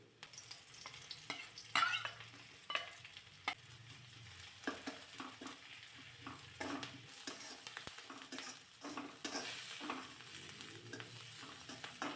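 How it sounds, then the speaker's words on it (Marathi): Chillies and crushed garlic frying in a pan, a soft steady sizzle broken by frequent spatula scrapes and stirring strokes, close but fairly quiet, without talk. "थोडीशी मिरची परतून घेतली आणि त्यानंतर मग घालायचं आहे ठेचून घेतलेला लसूण"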